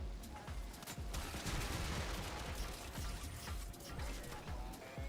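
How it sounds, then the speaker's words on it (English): Dense gunfire and repeated explosion thumps from a firefight in the game Warframe, with rapid shots layered over booming blasts throughout, loud and continuous. "Explosion."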